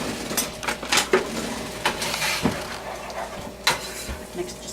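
Butter and flour are worked together into a roux in a pan, with a string of light scraping and clinking strokes, close and moderately loud, and a faint background hum.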